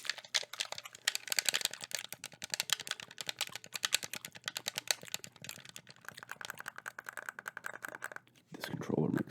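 An original Xbox controller gives rapid, close, crisp plastic clicks from its thumbsticks, clustered irregularly and faint overall, with a brief rustle near the end.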